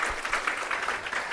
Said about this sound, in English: Let's give a round of applause to him.